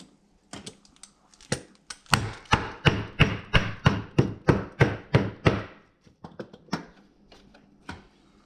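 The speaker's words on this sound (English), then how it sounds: "we want to see if you crush them in a plastic bag, do they create those sparks as well?" Jolly Rancher hard candies being smashed inside a plastic bag: a burst of rapid, evenly spaced loud thuds and cracks, with a few scattered knocks before and after.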